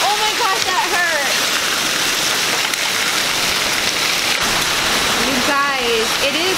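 A massive hailstorm pours down outside a house, a dense continuous rattle and patter of hailstones on surfaces, with a horse's whinny-like calls rising at the start and near the end.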